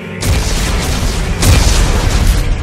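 Explosives detonate in the game Dead Space 3 with a loud, deep boom, followed by a second heavy blast about a second later, both trailing into a rumbling roar that fills the whole stretch.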